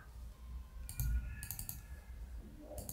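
Quiet computer mouse clicks while working in Excel, a few short sharp taps in quick clusters over faint room noise.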